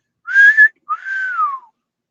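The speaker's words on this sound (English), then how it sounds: "Can you whistle?" A person whistles two short clear notes close up, the first steady and bright, the second longer and sliding downward, with no other sound.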